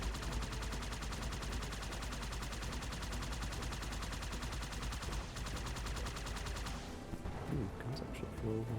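Rapid automatic gunfire from guns in the video game Halo 2 rattles in a fast, steady stream and stops near the end, with a voice talking faintly underneath.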